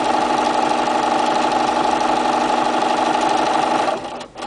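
A sewing machine stitches fusible applique along a straight edge at high speed, a loud, steady mechanical whirr that runs close up and then winds down and stops near the end.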